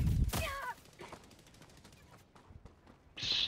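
Enemy gunfire rattles in bursts during a video game shootout, with a loud opening volley, scattered shots in between and another heavy burst at the end, all fairly close and dense.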